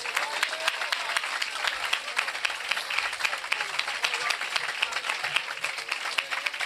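Congregation at a live Christian worship gathering clapping in praise, a dense, steady burst of many hands applauding together, fairly loud and close, with no pause or talk over it.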